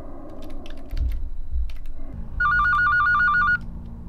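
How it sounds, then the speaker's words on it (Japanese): A telephone rings in the horror video game Ao Oni, a bright electronic warbling ring that bursts in loudly for about a second over a low game backdrop, after some faint clicking. "電話一旦切れたか。"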